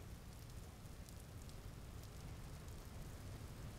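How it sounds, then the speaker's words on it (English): Rain falls steadily in a video game world, a dense, even hiss of drops close around the listener, heard alone without voices. "Gonna start raining."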